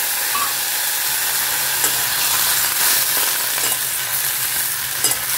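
Vegetables sizzle loudly and steadily in the small amount of oil left after frying fish, a close, dense crackle with occasional stirring scrapes and no talking.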